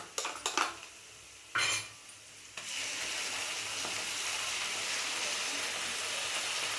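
Tomato paste stirred into a chili-spiced masala in a pan for chole, opening with a few scraping spoon and pan clatters, then a steady loud sizzle of frying that carries on alone to the end.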